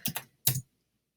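Three quick keystrokes tap on a computer keyboard, two close together and a third after a short pause, crisp and near, followed by silence.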